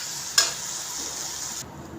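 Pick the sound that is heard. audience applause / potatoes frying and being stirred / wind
potatoes frying and being stirred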